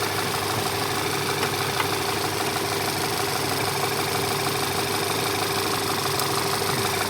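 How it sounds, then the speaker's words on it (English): The rebuilt engine of a 2008 Volkswagen GTI idles steadily with an even, continuous hum and a faint tick, close and unbroken, with no talking over it. "Engine sounds good."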